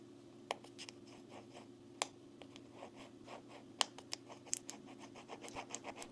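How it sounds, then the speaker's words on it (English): A blade scoring a straight line across a fountain pen nib: faint, repeated short scratching strokes with a few sharper clicks, close up over a steady low hum, no talking. "It would help if you score it with two blades."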